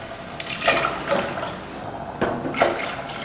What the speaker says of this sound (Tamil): அடுத்து தண்ணி சேர்த்துடலாம்